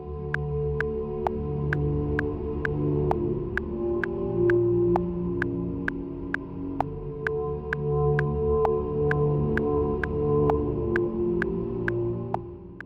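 Two identical postpunk/darkwave synth pads, one panned left and one right, hold steady sustained chords under a sharp ticking pulse that repeats evenly throughout, with no voice.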